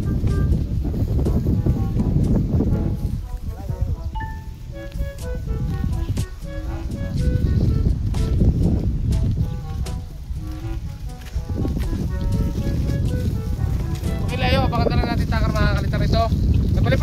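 Strong wind buffeting the microphone while a bamboo kite is flown outdoors, a constant rushing roar with music playing underneath.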